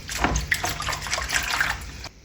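Radish leaves are rubbed and swished by hand in a basin of water, giving close splashing, sloshing and trickling that rises and falls in short bursts, with no speech over it.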